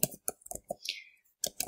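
Keys clicking on a computer keyboard as a search term is typed, a quick run of separate taps with a brief gap and a short faint whoosh partway, fairly close and quiet with no talking.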